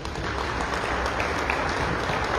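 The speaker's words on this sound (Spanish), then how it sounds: "Fuertes los aplausos nuevamente" Audience applause at an evening lecture event on Guatemalan history, a steady dense wash of many hands clapping throughout, fairly loud and continuous with no clear voices.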